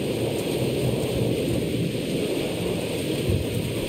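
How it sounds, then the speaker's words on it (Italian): A thunderstorm rages in the horror video game Mothered, with dense, steady rain and low rumbling thunder filling the scene at constant loudness, no voices over it. "La tempesta sta infuriando."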